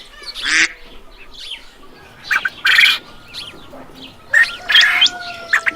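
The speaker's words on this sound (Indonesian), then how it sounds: "Bebek suka berenang di air." A duck quacks in several loud, nasal bursts spaced unevenly apart, each call standing out clearly against a quiet background.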